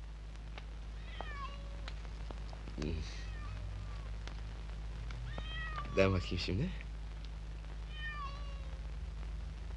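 A cat meows several times in a scene from an old Turkish film, with someone speaking over and between the calls and a steady low hum underneath.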